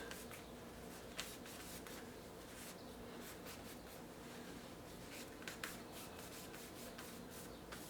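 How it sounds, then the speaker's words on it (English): Steady cloth rubbing cleans a bracketing lever on a Singer 500 sewing machine during restoration, a close, continuous scrubbing hiss with a few brief sharper scrapes and no talking. "And this I'm going to clean right now, this bracketing lever."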